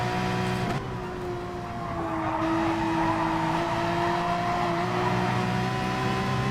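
An Audi R8 race car engine in Gran Turismo Sport at Laguna Seca holds a steady, droning tone with smooth pitch changes as the car runs. A brief dip comes early, then the engine note stays continuous and fairly loud.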